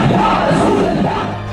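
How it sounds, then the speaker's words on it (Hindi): A huge protesting crowd packed along a Lahore highway roars and shouts in a dense, loud, continuous wall of voices, near and sustained. "कई किलोमीटर तक फैली इस भीड़ को देखिए और इस बागी शोर को सुनने और समझने की कोशिश कीजिए"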